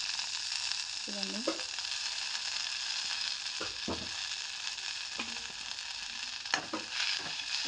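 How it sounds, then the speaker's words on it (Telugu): Mint leaves frying in a pan for a mint coconut chutney, a steady soft sizzle with brief stirring clinks and scrapes; a voice speaks briefly. "ఇందులో పుదీనా కూడా వేసుకొని ఫ్రై చేసుకోవాలి."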